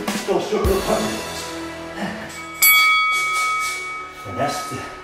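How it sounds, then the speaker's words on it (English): A boxing round bell rings at the end of a timed round during a boxing workout, a clear metallic tone that sustains and rings on, heard alongside talk. "that's the sound of the bell"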